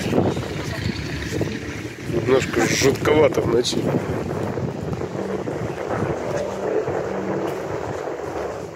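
Low, moaning tones from the sea organ in Zadar, Croatia rise and fall with the waves under heavy wind buffeting, while a person speaks briefly over the noise.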